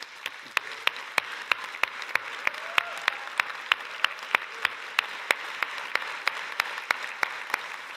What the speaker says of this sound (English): a big round of applause to all the volunteers who have made sure that the World Pride is how it looks today